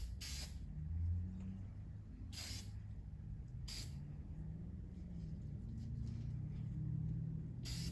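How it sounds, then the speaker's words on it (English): Clear coat is misted from a spray can over rust weathering powder on a Hot Wheels Rat Rod Bone Shaker model, heard as four brief, faint hissing puffs spaced unevenly over a low background rumble. "We're gonna go ahead and mist it with the clear coat to lock it in."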